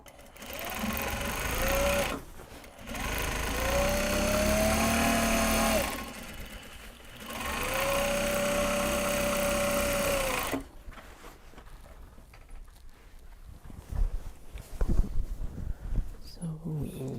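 Sewing machine stitching canvas bottoms for Japanese fabric tote bags: three sustained runs of steady mechanical whirring with a rising motor whine, separated by short pauses, then quieter handling clatter and knocks.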